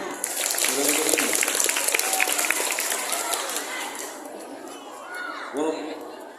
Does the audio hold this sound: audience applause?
yes